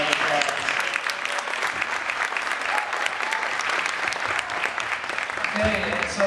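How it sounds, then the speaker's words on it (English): Audience applause for a dance performer at a high school dance company show, steady dense clapping filling the room throughout with occasional cheers over it. "Let's give her another round of applause."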